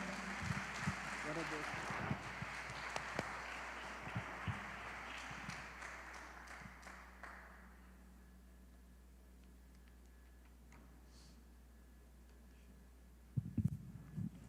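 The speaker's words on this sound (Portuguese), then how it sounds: "E dê um aplauso ao Senhor bem forte." A church congregation gives loud, sustained applause at a morning worship congress, a dense wash of clapping that fades out over several seconds and leaves a quiet room with faint noise before a few thumps at the end.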